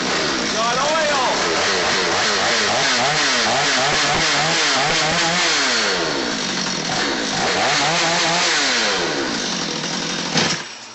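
A repaired Stihl 025 chainsaw runs loud and close, its engine revving up and down in repeated sweeps before dropping off sharply near the end, with voices under the noise.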